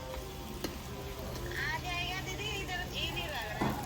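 A tadka tempering sizzles steadily for a bhurji with methi, coriander and spinach, cooked on a clay chulha; the hiss runs continuously while voices talk over it.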